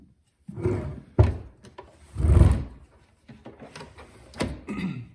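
The small cup door on an OXX Coffeeboxx job-site coffee maker is worked up close, giving a series of short clunks, thunks and plastic handling knocks separated by brief pauses.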